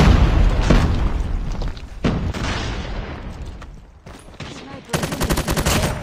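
Online shooter game combat: a frag grenade blast and gunfire, with loud booms and bursts of shots, a dense rapid volley toward the end, under occasional game voice callouts.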